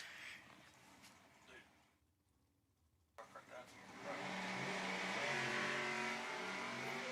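A drag racing car at a Funny Car Nationals qualifying event launches with a sudden loud engine roar after a brief hush, then holds a strong revving blast through an upshift, heard alongside faint talk.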